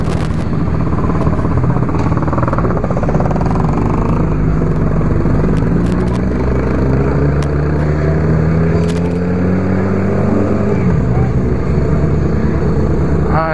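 A Honda CB1000R motorcycle engine rumbles steadily close by at a riding event, with rising and falling revs and wind noise running continuously throughout.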